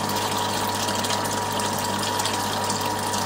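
Water gushing steadily in through a freshly opened valve on a chiller setup, a continuous even rush with a pump-like hum underneath, close and constant throughout with no voices.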